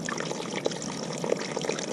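Spring water trickling out of a mountainside at Jackstraw Springs in the San Gorgonio Wilderness, a steady close splashing flow with small bubbling plops, heard alone.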